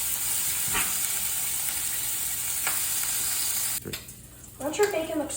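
Bacon fries in a pan on medium heat, giving a steady bright sizzle and hiss that cuts out near the end, followed by a brief clatter.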